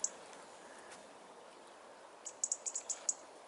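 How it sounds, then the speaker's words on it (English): A robin at dawn, heard as a faint, distant series of high, thin chirps, a single note at the start and then a quick run of about six notes near the end, over quiet outdoor background hiss. "that's a robin"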